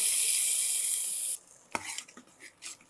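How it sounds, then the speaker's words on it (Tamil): A hot tempering of crispy fried garlic is poured into a gongura brinjal kadaiyal curry, giving a loud, hissing sizzle for over a second that cuts off abruptly, followed by a few scattered clinks of a spoon against the pan. "இப்போ இந்த தாளிப்பை நம்ம அடுப்பில் வச்சுட்டு சேர்த்துக்கலாம் இந்த தாளிப்பையும் சேர்த்து நமக்கு ஒரு கொதி வரட்டும்"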